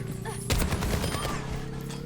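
Rapid video game gunfire bursts out suddenly and keeps going as a dense, loud run of shots from the half-second mark on, with quieter game sounds before it.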